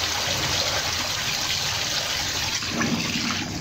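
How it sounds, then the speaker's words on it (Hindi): Rice being washed in water in a pot while preparing chicken biryani, a steady rushing and sloshing of running water close by, continuous and fairly loud without talk. "चावलों को अच्छी तरह धो लें क्योंकि इनको दवाई वगैरह लगी होती है"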